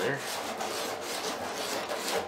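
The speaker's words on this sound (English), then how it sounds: "I'm just going to take some sandpaper and just kind of get any little burrs off" Sandpaper rubbed by hand around the edge of a freshly drilled hole in a fish tank to clear burrs, a close, continuous scratchy rasping with slight back-and-forth strokes.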